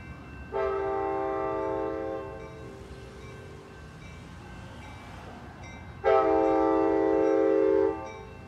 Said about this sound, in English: here comes train 712